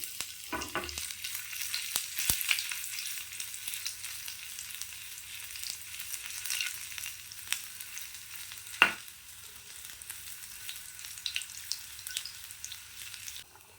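Cinnamon, fennel, cloves, ginger and garlic fry in hot oil with a soft, even sizzle, broken by a few sharp clinks of stirring, one louder knock partway through, and no voices.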